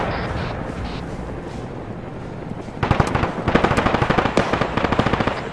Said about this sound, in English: Raccoon, open fire!